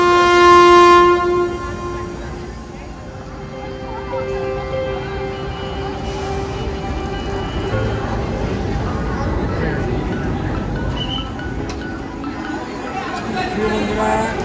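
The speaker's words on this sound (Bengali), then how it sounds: "হাওড়া স্টেশনে পৌঁছে গেলাম আর আমাদের পিছনেই দাঁড়িয়ে আছে বিভূতি এক্সপ্রেস" A train horn blares briefly at the start on a busy Howrah railway station platform beside the Vibhuti Express, followed by a steady rumble of idling rail traffic and crowd chatter.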